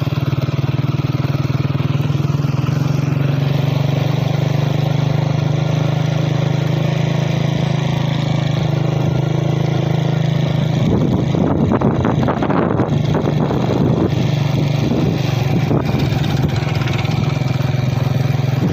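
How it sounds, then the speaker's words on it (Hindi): A steady tractor engine drones and idles continuously, mid-pitched and fairly loud, in hilly country near a gas field in Dera Bugti, Balochistan, with wind buffeting the microphone partway through. "तो यहाँ पे ट्रैक्टर ख़राब हुआ था तो ये अभी चल रहा था उधर से।"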